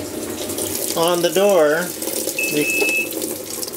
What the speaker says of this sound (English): And now you can see the water going in.